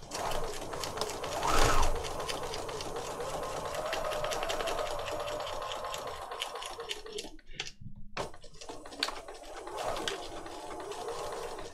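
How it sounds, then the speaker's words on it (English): A sewing machine straight-stitching around a piece of paper, a close, continuous rapid whirring hum that briefly stops and then resumes. "So I'm going to go back to straight stitch and just sew around it with straight stitch."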